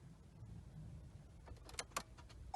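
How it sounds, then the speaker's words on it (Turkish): An ignition key turned in a car during a driving lesson, after the clutch is pressed and neutral is checked; a few sharp clicks and a faint electric whir near the end over a quiet cabin. "Kontağımı açıyorum."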